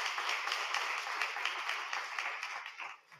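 A congregation claps for Reverend Tina Guynn at a church service, a fairly faint, brief round of applause with audible individual claps that fades out near the end.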